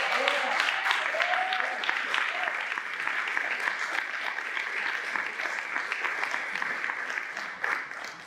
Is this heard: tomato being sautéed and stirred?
no